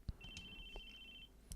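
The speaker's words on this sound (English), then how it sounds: "The phone kept ringing." A telephone rings in the visual novel game Chaos;Head Noah, a thin sustained electronic tone lasting about a second among soft clicks and thumps, heard faintly with no speech.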